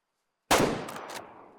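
A single loud rifle gunshot fired at a badger in the hunting video game Way of the Hunter, with a sharp crack after a short silence, then a long rolling echo that fades away, with no talk.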